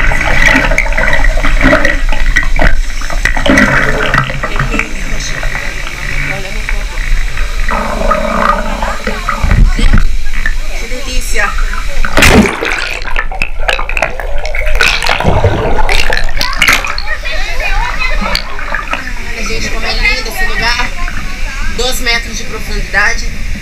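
Cachoeira da Gruta waterfall in Bonito roars as a loud, steady rush of falling water throughout, with a voice speaking over it.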